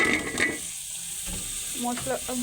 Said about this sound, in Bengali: ফুলকপিগুলো আবার একটু ভালো করে কষে নেব।